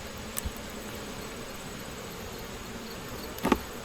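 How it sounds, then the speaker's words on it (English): Honey bees in an opened hive give a steady, even buzzing hum throughout, with a couple of faint knocks early and a brief louder clatter near the end. "Nice amount of bees in here. Okay, yeah, there's a lot of bees in here."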